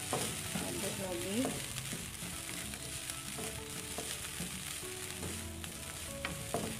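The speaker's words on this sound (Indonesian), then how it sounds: "Aduk lagi." Fried rice with kaffir lime leaves being stirred in a pan, a continuous soft sizzle with scraping and stirring strokes, fairly quiet and steady throughout.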